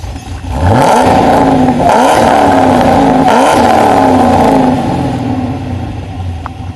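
Deep, throaty exhaust of a supercharged LS1 V8 Holden One Tonner rumbles close by as the engine is blipped several times in quick succession, each rev rising and dropping back to a heavy idle.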